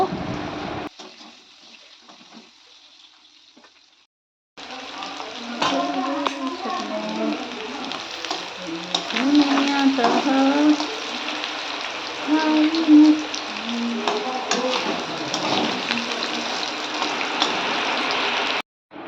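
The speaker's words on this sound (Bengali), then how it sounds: "আর সাথে দিয়ে দিলাম আলুগুলো, একটা সিদ্ধ করে নিয়েছিলাম। আর এই আলুগুলো ভালো করে ভেজে নেব।" Boiled potatoes fry in oil with black cumin, a soft continuous sizzle with crackles that starts after a brief quiet gap and holds steady, with a voice speaking over it.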